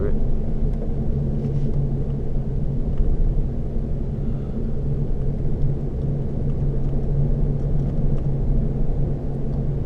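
Low, steady exhaust rumble from a car climbing a mountain road at modest speed, heard from inside the cabin as a continuous deep drone.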